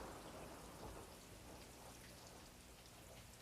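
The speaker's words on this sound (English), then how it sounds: "look at that rain. Oh, it's coming down in absolute buckets." Heavy rain pours down in buckets on Christmas Eve, a dense, steady roar of drops drumming on surfaces, loud and unbroken throughout, with no voices over it.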